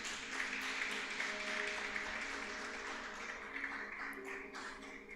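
Faint, steady applause fills a church, a dense even wash of clapping throughout with a low sustained tone beneath and no clear talk.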